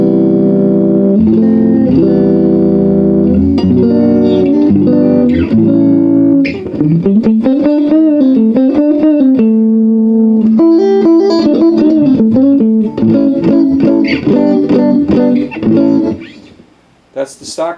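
Electric guitar played through a Frugal Amps AB763 single-channel combo at stock tone, loud and close, with chords and single-note melodic lines ringing continuously before fading at the end.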